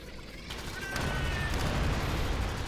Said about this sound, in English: You toss one and then they explode into more grenades